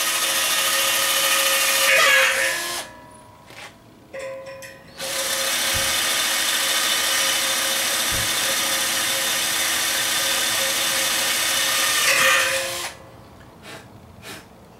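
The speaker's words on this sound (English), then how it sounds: "Start out with a smaller drill bit, like an 1/8 inch, and then work your way up to 1/4 inch" A power drill bores mounting holes for a bench grinder stand, working up from an 1/8 inch bit to a 9/32 inch bit; steady whirring runs of drilling, broken by short pauses, close and fairly loud with no talk.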